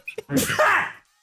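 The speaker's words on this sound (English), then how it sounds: "That was a powerful sneeze." A short burst of breath is followed by one forceful sneeze lasting under a second, loud and close, then silence.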